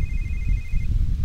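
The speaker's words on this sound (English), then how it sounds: "Sasha, answer your phone" A phone rings in a video game, a faint steady electronic trill over a loud, rumbling, noisy game background with no talk.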